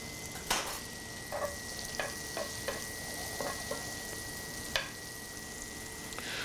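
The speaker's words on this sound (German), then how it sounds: "dass man die Spargelbündchen mit der offenen Seite nach unten als erstes anbrät, damit es einfach fest wird" Bundles of green asparagus wrapped in Black Forest ham frying in butter in a pan, a quiet, steady sizzle with a few soft clicks and taps of a utensil, heard close up with no talk.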